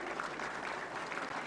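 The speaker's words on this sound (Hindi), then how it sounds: "इसे जोरदार तालियां।" Dense, steady applause from a large audience at a film award ceremony fills the moment, loud and continuous throughout.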